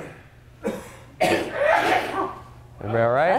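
One sharp sneeze bursts out in a conference room at a referee summit, loud and close. A brief voice comes before it and someone speaks afterward.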